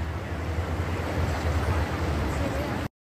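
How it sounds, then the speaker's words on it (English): A flooding river at Yellowstone National Park rushes hard past a road it is eroding, a loud, dense, continuous roar of water that ends in a sudden cut to silence. "The river's eating it alive."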